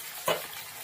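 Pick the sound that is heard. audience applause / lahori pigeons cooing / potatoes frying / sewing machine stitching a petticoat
potatoes frying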